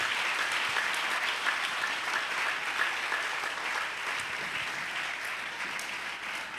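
Congregation in a French-language church service applauding and cheering the Lord, a dense steady wash of clapping and crowd noise that holds at a fairly even loudness throughout, with no single voice standing out.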